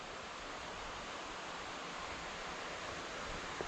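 Distant stream water in the Climbers Run Nature Preserve at Pequea, Pennsylvania, flows in a soft, steady broadband rush, faint and continuous, with no voices.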